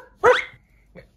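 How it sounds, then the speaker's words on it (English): A dog gives one sharp, close bark followed by a softer short yip, with quiet pauses around them. "Who's barking?"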